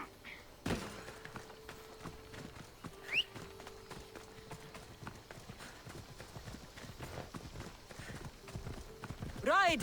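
Horse Phobos galloping under a rider in the video game Assassin's Creed Odyssey, with steady rhythmic clip-clop hoofbeats and a thump at the start, running throughout under a voice.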